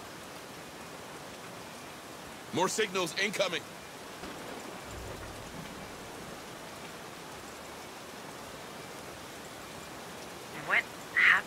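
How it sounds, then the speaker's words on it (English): Steady rain hisses through a video game scene, a continuous wash of falling water with brief bursts of voices near the start and again at the end. "It's too rainy out here."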